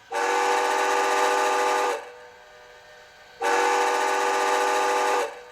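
Two long, steady whistle blasts from an HO scale Bachmann 4-6-4 J3A Hudson model steam locomotive, each about two seconds, separated by a brief pause with a faint background hum.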